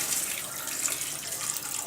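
Water poured from a vessel into a pan of onion-tomato base for dry fish gravy, a steady soft splashing stream running the whole time with no talk.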